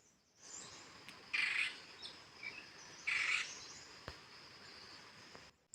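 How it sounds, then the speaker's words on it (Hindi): Birds calling on a morning in a mountain village after rain, two short bright bursts of chirping over a faint, steady insect hum, moderately distant and otherwise quiet. "सुबह-सुबह आ रही थी पक्षियों की सुंदर आवाज़ें। आप भी सुनिए।"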